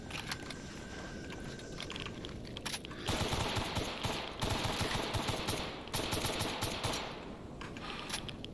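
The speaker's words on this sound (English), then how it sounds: "Why does my gun have to jam?" Rapid bursts of automatic gunfire in the video game STALKER rattle in several loud stretches, broken by pauses where the gun jams, over a dense ambient background.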